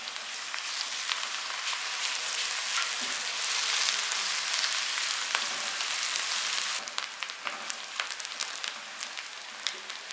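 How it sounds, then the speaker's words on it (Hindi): Golden-fried onions with cloves, bay leaf and ginger garlic paste sizzle loudly in a pan for Mughlai chatni chicken, a dense continuous crackle that eases slightly partway through, with occasional stirring clicks. "अब इसमें डालेंगे लौंग और तेज पत्ता और साथ ही अदरक लहसुन पेस्ट और इसको भी 1 मिनट के लिए फ्राई करेंगे।"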